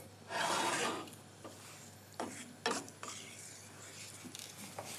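Crushed Italian tomatoes are stirred in a pot, giving a close, wet, scraping rasp that comes as one long stroke followed by several shorter, softer scrapes and knocks.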